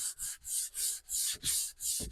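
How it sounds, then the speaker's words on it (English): A wooden piece is hand-sanded with a sanding block to remove fuzzy fibres before spraying, making close, rhythmic back-and-forth rasping strokes, about seven in quick succession. "get it all nice and sanded."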